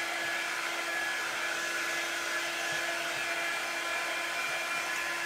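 A hair dryer runs continuously at a steady high-pitched whir with an even, constant airflow hiss and no talking over it.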